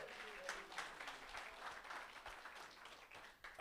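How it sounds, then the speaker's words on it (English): An audience at a pitch night event gives a round of applause: fairly quiet, steady clapping that swells into a louder burst at the very end. "Can we give it up for a big round of applause for Stephen and the Facework team?"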